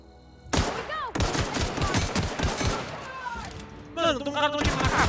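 Gunfire in The Outer Worlds video game comes as a dense, rapid fusillade of close shots with thuds and impacts. A voice speaks during the firing.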